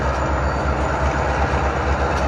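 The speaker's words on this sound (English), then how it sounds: "let me show y'all the train." A train rolls past a small country house, a loud, steady rumble with rhythmic clacking of wheels on the rails throughout, close by and continuous, with no talking.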